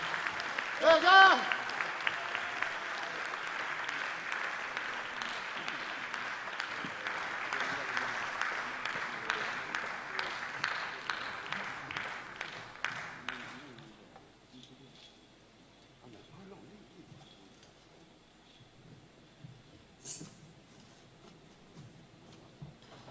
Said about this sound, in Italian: Mario Brai, un altro applauso